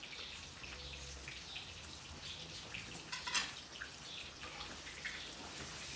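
Rain falls outdoors in bad weather, a steady broadband patter with scattered drips close by and a louder burst of drops midway.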